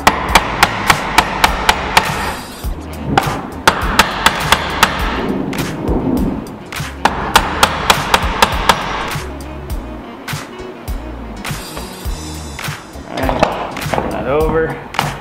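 A mallet strikes a chisel while dovetails are hand cut in wood for a built-in bench seat. Sharp, repeated taps come in bursts, close and loud, with someone talking between and under the blows.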